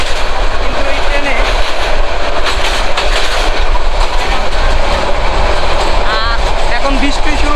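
Mohanganj Express, a crowded local passenger train in Bangladesh, rolls steadily along the rails with a continuous loud rumble and rhythmic clickety-clack. Faint squeals and voices sit inside the din.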